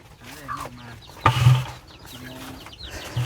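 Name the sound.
chickens clucking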